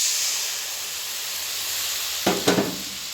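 Onion, ginger and garlic fry in hot oil in a pan for a mixed-vegetable labra, giving a steady close sizzle and hiss, then a few sharp bursts of spitting as a spice paste mixed in a bowl goes in.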